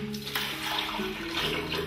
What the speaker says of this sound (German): Etwas Wasser geben wir noch dazu.